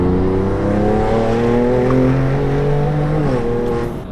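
Tuned 720-horsepower Stage 3+ BMW M2 Competition engine droning loud and steady from inside the cabin, its pitch rising gradually then shifting near the end as revs change, a strong resonant hum throughout.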